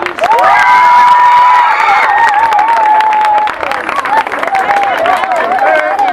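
Students clap and cheer for older pupils who donated cleaning supplies at a school back-to-school event, a loud sustained crowd with shouting and a voice-like tonal wail running over the applause.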